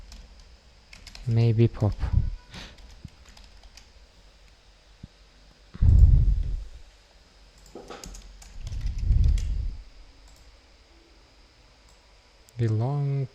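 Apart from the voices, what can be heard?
typing on a computer keyboard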